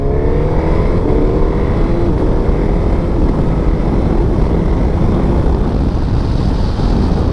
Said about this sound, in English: let's do a first to second on the quick shifter